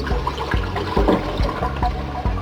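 Cold tap water runs over freshly boiled eggs, a close, steady splashing and trickling stream with small irregular knocks and gurgles throughout.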